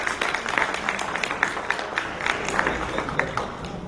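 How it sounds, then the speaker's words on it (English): An audience applauds a speaker at a Mali charitable association fundraising event in New York City, a dense, steady wash of many hands clapping throughout, moderately loud and close. "On l'applaudit, ça s'applaudit."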